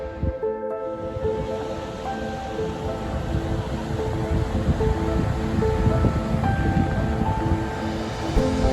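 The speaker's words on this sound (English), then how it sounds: "You can hear the waves crashing into the rocks." Ocean waves crash against rocks on the coast at Taghazout near Agadir, a continuous broadband roar that swells and builds, with some wind and no talking.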